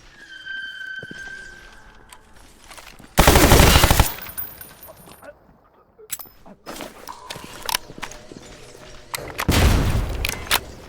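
Gunfire in the shooter game Stalker GAMMA: loud bursts of automatic fire, one long burst early and another near the end, with scattered shots and in-game sounds between them.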